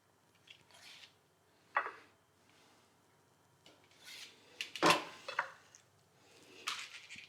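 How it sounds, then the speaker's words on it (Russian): Soft scattered clicks and scrapes of a knife halving scallops lengthwise on a cutting board, a few sharper taps in irregular bursts with quiet pauses between. "И я режу гребешки напополам вдоль."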